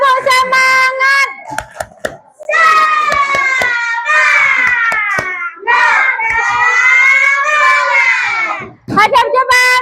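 Young children in a classroom chant loudly and in rhythm during a group clapping routine. Sharp, quick hand claps burst between and under the sung chant lines.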